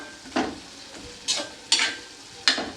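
Carrot halwa being stirred in a pan over a low flame, a soft background sizzle broken by four distinct scraping strokes of the spoon at uneven intervals, with no talking.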